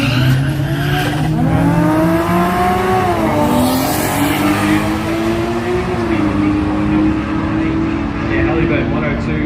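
Drag racing at a Brisbane jamboree, a Toyota Corolla against a Cressida, with engines revving and climbing through gears, rising and falling in pitch as they accelerate away. A commentator talks over them.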